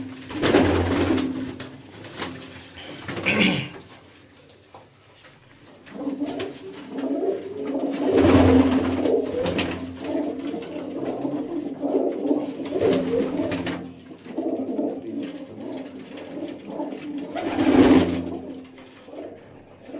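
Lakha pigeons coo in deep, throaty, repeated phrases at close range, with several swells of louder cooing separated by quieter stretches, at a pigeon keeper's loft in a village.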